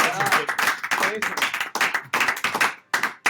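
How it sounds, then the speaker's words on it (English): Audience clapping at a podcast-style talk show, sustained applause of many hands close to the microphone, mixed with laughter and a brief spoken word underneath. "Clap it up for that."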